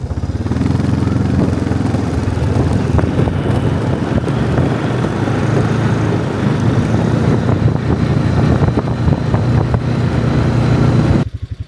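An ATV engine drones steadily and loudly throughout a ride, with heavy wind buffeting the microphone and rumbling low over the motor until it cuts off at the end.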